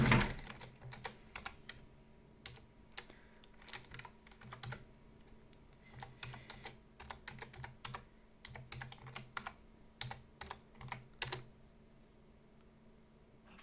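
A password tapped out on a computer keyboard, with quick bursts of key clicks in an irregular rhythm, fairly close and quiet, pausing between runs of keystrokes.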